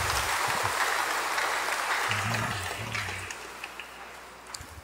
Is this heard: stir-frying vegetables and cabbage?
no